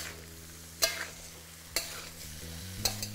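Sliced tomatoes and spring onions stirred in a pan over a low flame, with three distinct spoon scrapes at regular intervals over a quiet, steady sizzle.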